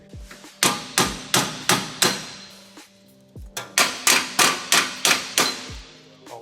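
A hammer bangs repeatedly on a Nissan 370Z car part, five sharp blows, a short pause, then a faster run of about seven more, loud and close with slight ringing.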